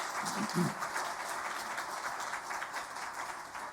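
Church congregation applauding during a Sunday worship service, a dense, even patter of many hands clapping that continues steadily under a brief voice.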